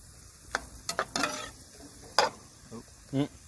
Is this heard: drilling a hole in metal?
no